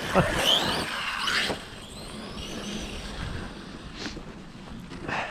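A ZD Racing DBX RC car with a loose tire running on a pump track, its whining motor and skidding tires rising and fading in short bursts, fairly close, with people talking at times.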